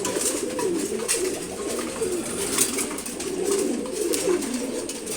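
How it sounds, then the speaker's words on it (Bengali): A pair of khaki pigeons coo in a steady low warble while eating their morning feed, close by, with faint pecking and rustling and no talk. "আমার খুবই প্রিয় এক জোড়া কবুতর"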